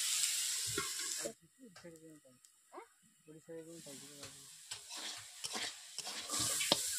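Gima greens fry in a wok with soft, intermittent sizzling and stirring scrapes, quiet and close, broken by patches of near silence and faint background voice.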